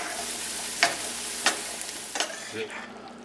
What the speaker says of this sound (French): je répartis mon mélange de viande et oignons dans les plats